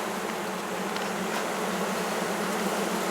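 Honey bees buzz densely and close on a hive frame during an inspection, a steady, unbroken swarm hum with no voices.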